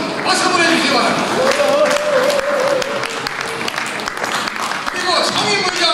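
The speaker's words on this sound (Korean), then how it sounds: "여러분 박수 보내주시기 바랍니다" An audience at a forum's founding ceremony applauds with sustained, dense clapping, while a voice speaks over it through the middle.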